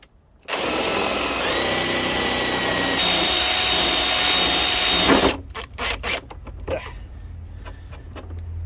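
Nut being undone with a socket on a Kawasaki GPZ900R motorcycle during a teardown: a loud sustained whirring tool run of about five seconds, then stops, followed by a few quieter clicks and clinks of metal parts.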